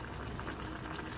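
Water simmering with pork in a pot for igado, a steady, close bubbling and hiss that holds evenly throughout with no talking.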